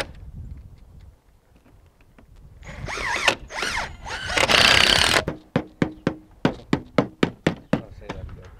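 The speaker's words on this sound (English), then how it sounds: "We'll just screw this section on here." Screws being driven into a section of a mobile home attic during lid-lift insulation work, a burst of whirring drive noise followed by a quick series of sharp, evenly spaced ratcheting clicks, close and clear.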